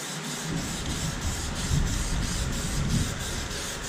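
An aerosol spray paint can hissing steadily in close, even passes over interior plastic trim, with faint rhythmic pulses in the spray.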